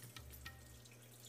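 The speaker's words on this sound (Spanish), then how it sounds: "Ahí está entrando un poquito más de agua." Water running steadily into a washing machine during its wash cycle, a continuous low hiss of flow close by with no one talking.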